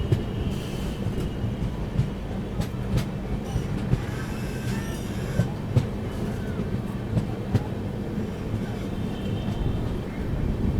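A passenger train hauled by an Itarsi-based WAP-7 electric locomotive rumbles at a railway station, with a steady low roar, scattered clanks and faint squeals throughout and a voice talking now and then.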